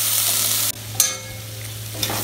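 Ground paste for a peas pulao dropped into a hot frying pan: a loud, steady sizzle that abruptly drops to a softer hiss, with a few stirring scrapes and spatters close by and no talk.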